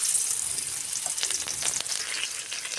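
Onion dropped into hot oil for a fish curry, giving a bright continuous sizzle with crackling spits, close and fairly loud, with no talk.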